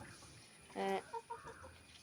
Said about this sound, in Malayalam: ഇതാണ് എൻ്റെ കോഴികൾ